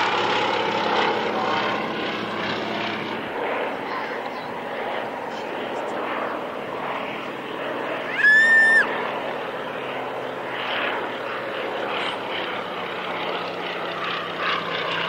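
Vintage propeller aircraft flying at the Duxford D-Day airshow, a steady droning engine rumble sustained throughout at moderate distance, with a brief sharp tonal whistle near the middle; crowd or commentary voices murmur faintly underneath.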